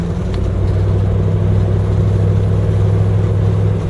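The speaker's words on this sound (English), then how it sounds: "I got my Land Rover running again" An old Land Rover's engine drones steadily while driving in fourth gear, a loud, constant low hum with no pauses or talking.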